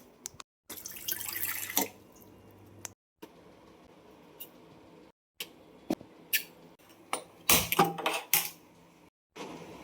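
Water filling from a tap in a home, heard as short bursts of splashing flow broken by pauses, with clattering knocks of vessels being handled close by.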